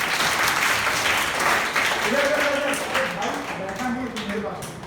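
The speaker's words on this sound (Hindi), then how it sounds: "जोर से ताली बजाओ उसके लिए।" Class 4 schoolchildren clap together in a classroom at Kendriya Vidyalaya Azamgarh, a dense, steady burst of applause that carries through the whole stretch, with an adult voice talking over the later part.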